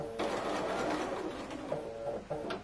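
A Bernina sewing machine running a stretch of stitching: a fairly quiet, steady mechanical whir with small rhythmic clatter, close by, with no one talking.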